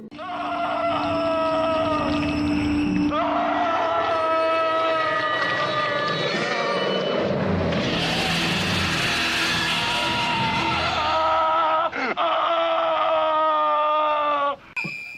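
An actor in the film Parasite screams and groans at length, a loud, strained, continuous wail that shifts in pitch and roughness for about fifteen seconds, with brief breaks near the end.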